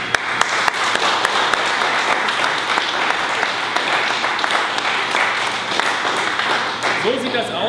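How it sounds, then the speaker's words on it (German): A studio audience applauds for a while in a cooking-show segment set in a car body shop. The clapping is dense, steady and fairly loud, and a voice comes through faintly underneath near the end. "Ich würde mal sagen, das ist ein Applaus wert"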